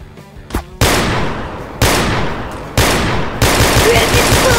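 Sniper rifles in Garry's Mod fire in rapid succession, four loud booming shots about a second apart, each with a long rumbling tail, close and dominant.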